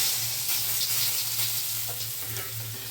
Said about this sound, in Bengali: সমস্ত চাল কুমড়োগুলো আমি এইভাবে ভেজে নেবো